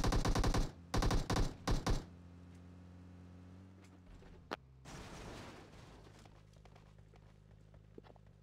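Rapid automatic gunfire from PUBG Mobile on the Erangel map rattles out in several loud, closely spaced bursts over about two seconds, then gives way to quiet movement and a faint distant shot.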